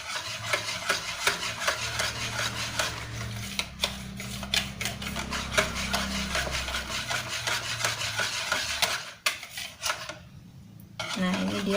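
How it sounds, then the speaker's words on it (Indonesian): Takoyaki batter of flour and water stirred in a bowl, a continuous close scraping and rubbing rhythm of utensil against the bowl, briefly pausing near the end. "Nah, ini kita aduk sampai tidak ada geringgil-geringgil dan dia tercampur rata."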